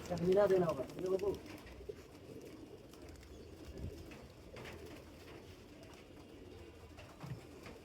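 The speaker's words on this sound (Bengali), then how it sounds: "বামে আছে পাঁচটা কবুতর" Pigeons in a loft, including male birds, coo and call near the start, then fade to soft background activity with faint, occasional coos; a person talks over parts of the scene.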